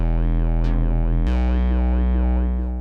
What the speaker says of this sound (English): So Talkbox is a formant filter,